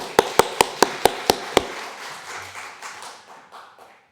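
A church congregation applauding at a Sunday evening worship service, starting with about seven loud, evenly spaced rhythmic claps, then fading into softer scattered clapping that dies away within a few seconds.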